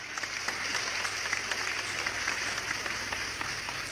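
Steady, dense applause from a crowd at a Bible class, sustained and fairly even throughout, heard from a moderate distance.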